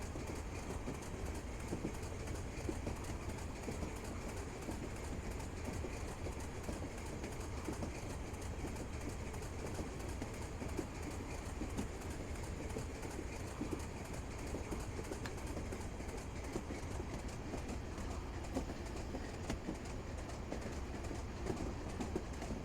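A Class 35 diesel locomotive in the game Train Sim Classic runs toward Weardale, giving a continuous rumbling roll with steady rhythmic clickety-clack of wheels over rail joints, moderately quiet and without talk.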